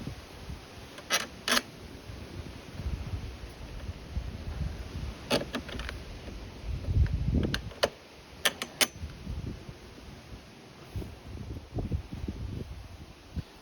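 Nut and bolt being refitted on a Mountfield V35 petrol lawnmower during a repair, heard as scattered close metallic clicks, creaks and small knocks with handling noise and no talk.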